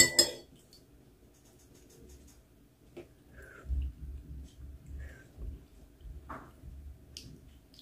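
A metal spoon clinks sharply against a cup while stirring Starbucks ground coffee: a cluster of bright clinks at the start, then scattered lighter taps and scrapes over several seconds.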